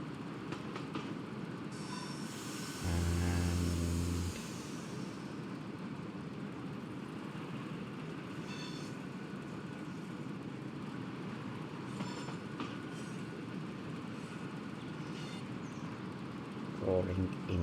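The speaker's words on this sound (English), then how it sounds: "Pulling away from the steam railway." Class 09 diesel shunter pulling away through a snowy station on the Riviera Line in Train Sim World 6, with a steady rolling rumble throughout, a brief louder horn-like burst early on, and faint clanks and squeals.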